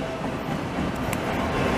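A CN autorack freight train rolls past in Dorval, Montreal, its steady rail rumble and rattling cars filling the whole stretch at a constant, fairly loud level.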